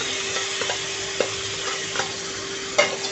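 Chopped onion, ginger, garlic and green chilli sautéing in a pan, giving a steady close sizzle broken by several sharp spatula scrapes and taps against the pan.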